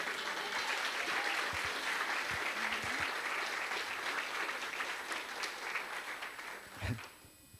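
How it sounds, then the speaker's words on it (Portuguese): A church congregation applauds during a Portuguese-language worship service, a dense, sustained wash of clapping that fills the space and eases off toward the end. "Dê um aplauso ao Senhor."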